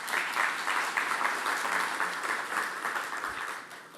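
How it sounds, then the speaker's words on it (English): A round of applause from a seated audience at a talk on media responsibility in South Africa, honouring a team leader; a steady, full crowd of clapping hands that holds evenly for several seconds and tapers slightly. "I really think we should give her a round of applause for leading this team"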